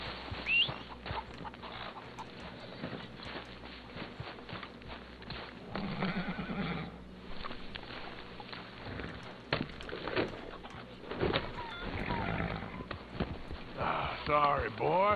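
Horse in the video game Red Dead Redemption 2 neighing with a few whinnies over clip-clopping hooves, close and moderately loud, with someone talking in between.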